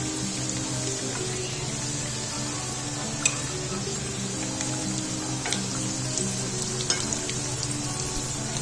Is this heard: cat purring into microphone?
no